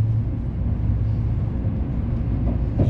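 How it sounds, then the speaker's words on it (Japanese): Steady low rumble from inside the Izukyu Aloha train running along its line, a constant rolling drone with faint rattling, carrying on evenly without voices. "伊豆急のアロハ電車で"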